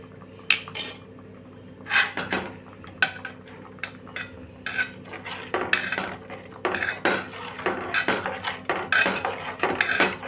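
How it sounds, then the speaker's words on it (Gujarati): A spoon stirs chutney for chorafali in a metal pot over low gas, giving irregular close metallic clinks and scrapes against the pot that grow busier toward the end, with no voices. "તો આપણે ધીમા ગેસ ઉપર હલાવીશું ગરમ કરીશું તો આપણું નીચે બેસતું નથી"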